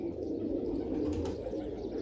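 A steady, dense bed of pigeon cooing from birds around a rooftop loft carries on without pause, with faint chirps mixed in and no voices.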